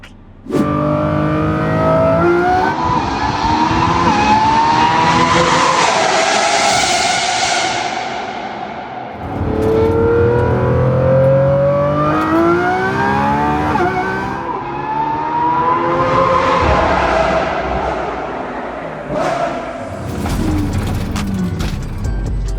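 A McLaren Senna sports car engine revs hard and roars through repeated accelerations and gear changes, loud and close, with brief dips between bursts.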